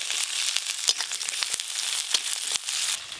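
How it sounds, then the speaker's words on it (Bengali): Chopped onions sizzle steadily in hot oil with whole garam masala as they are fried until reddish. A spatula stirs them in a few sharp scraping strokes, and no one speaks. "প্রথমে পেঁয়াজ কুচিগুলো একটু লাল লাল করে ভাজবো"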